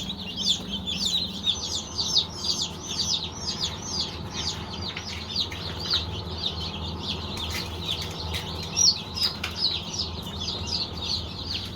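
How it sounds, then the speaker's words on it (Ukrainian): Many baby chicks peep constantly in a dense, high-pitched chorus, close by, with occasional flutters and a low background hum. "Дивіться, які гарненькі курчатка."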